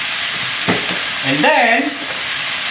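Sriracha hits a hot pan of vegetable and tofu stir fry, giving a steady loud sizzle and frying hiss with stirring, while a voice talks briefly over it.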